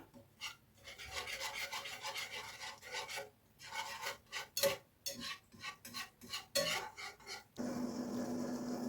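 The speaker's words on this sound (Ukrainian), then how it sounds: "Трошки перемішаю." Chicken wings are stirred in a pot of curry sauce, giving irregular scraping and rubbing strokes of a utensil against the cookware, close and fairly quiet, with a brief steadier sizzle-like rasp near the end.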